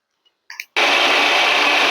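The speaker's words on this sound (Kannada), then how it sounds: "ಈಗ ಇದನ್ನು ಮಿಕ್ಸಿ ಮಾಡ್ಕೊಂಡು ಬರ್ತೀನಿ." A kitchen mixer grinder starts up after a brief quiet moment and a couple of small clicks, then runs loud and steady, grinding tamarind and salt into a batter for ridge gourd dosa.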